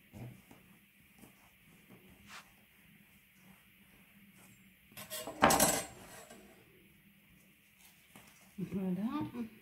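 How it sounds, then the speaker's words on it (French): A sponge cake is cut with a heart-shaped mould, giving faint scrapes and light metallic clinks, then a brief loud crunching rattle midway and a dull knock near the end. "On va passer au découpage de notre génoise."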